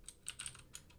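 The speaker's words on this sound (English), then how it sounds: "I'm able to auto complete this by hitting the tab key" Quick, quiet keystrokes on a computer keyboard, about five soft clicks in a brief burst with a faint room hum underneath.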